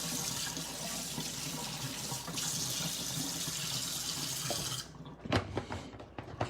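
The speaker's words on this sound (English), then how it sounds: "We'll go ahead and rinse this top off a little bit." Tap water runs steadily over the top of a backpack sprayer being rinsed, a close, continuous splashing hiss that cuts off near the end, leaving a few clunks and drips.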